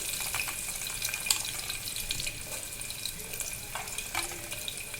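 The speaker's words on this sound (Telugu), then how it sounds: "ఇప్పుడు ఆనియన్ యాడ్ చేసుకుందామండి" Chopped onion dropped into hot oil with dried red chillies for a brinjal curry, giving a continuous bright hiss and crackle, close and even, with small pops and no talking.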